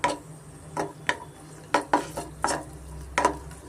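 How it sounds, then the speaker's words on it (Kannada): Cashews and seeds fry in a pan while a spoon stirs them, giving intermittent scraping clatters over a low, steady sizzle with no talk. "ಗೋಡಂಬಿ ಫ್ರೈ ಮಾಡಿಕೊಂಡು ಇದ್ರ ಜೊತೆನೇ ನಾನು ಮೆಸ್ಮಿನ ಸೀಡ್ಸನ್ನು ಫ್ರೈ ಮಾಡ್ಕೊತಾ ಇದ್ದೀನಿ"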